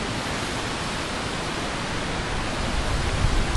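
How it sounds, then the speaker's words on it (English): A small woodland brook, running deeper after autumn leaf fall, flows with a steady, close, full rushing wash that swells slightly toward the end. "Here's my little brook."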